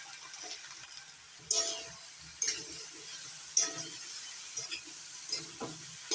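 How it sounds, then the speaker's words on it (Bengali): Ivy gourd frying with salt in a pan, a quiet steady sizzle broken by several sharp spatula scrapes and clinks spaced about a second apart, with no voice. "লবণ মিশিয়ে ভালো করে ভেজে নিচ্ছি"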